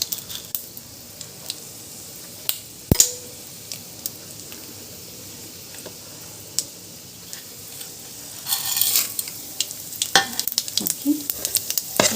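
Mustard seeds with chana dal and urad dal frying in hot oil, a quiet sizzle with scattered pops and ticks that thickens into dense crackling spluttering near the end, no talk.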